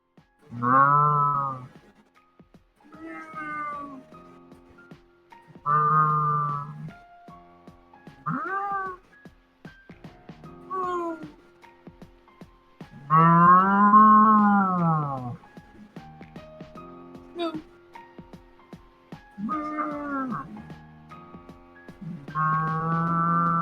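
A person imitating a cow, giving a long series of drawn-out, sung moos separated by short pauses, close and clear, some higher and wavering, others deep and sustained.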